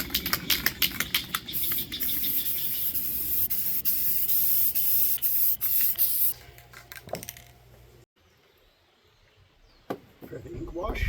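Spray primer hisses onto cardboard and plaster terrain in repeated short bursts, close and loud, with rattling can sounds between sprays before the bursts thin out and stop toward the end.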